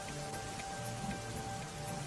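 Steady, continuous monsoon rain falls in Devbhumi Dwarka, Gujarat, a dense even hiss of drops on surfaces that holds at the same level throughout, with no voices.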